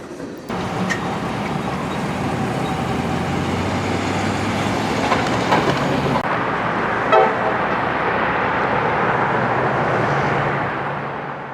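A freight train rolls past steadily in South Florida, a dense continuous rumble and rail noise that stays loud throughout, with a brief horn-like tone partway through and the sound easing slightly near the end.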